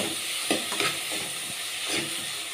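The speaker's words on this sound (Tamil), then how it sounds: "உப்பு சேர்த்து நல்லா வதக்கி விடலாங்க. தக்காளியும் வெங்காயம் நல்லா வதங்கணுங்க." Tomatoes and onion sauté in oil with salt, a close, continuous sizzle broken by soft scrapes and stirring taps, with no talk.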